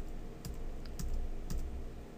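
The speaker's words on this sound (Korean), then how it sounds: "다시 언두를 해서 Z키를 눌러서" A few soft keystrokes tap on a computer keyboard during Maya character animation work, three or four separate clicks spaced about half a second apart under a low background hum.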